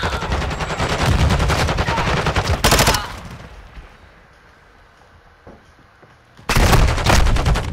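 Video game gunfire fills the first three seconds with rapid automatic bursts. After a quieter stretch with faint background sounds, a second loud burst of sustained shooting starts near the end.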